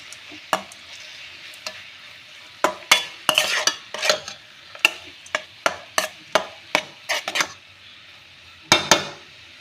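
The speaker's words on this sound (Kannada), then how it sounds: "ಟೊಮೊಟೊ ಬದಲು ನಿಂಬೆಹಣ್ಣಿನ ರಸನ ಹಾಕಿ ಮಿಕ್ಸ್ ಮಾಡಿ" Radish stir-fry stirred with a spoon in a pan after lemon juice goes in, giving repeated sharp scraping clinks in irregular bursts over a faint sizzle, fairly close, with no voices.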